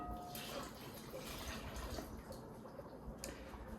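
Spring water, 240 grams, is poured into a bowl for a double batch of sourdough, a continuous soft splashing trickle at close range throughout.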